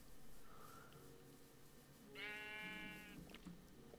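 A Minecraft sheep lets out a single clear bleat in the middle of otherwise quiet game ambience, preceded by a faint brief tone.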